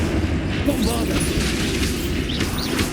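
A Bombarda spell exploding in the Hogwarts Legacy video game, a heavy booming blast with rumbling debris, sustained and loud across the moment amid ongoing combat effects.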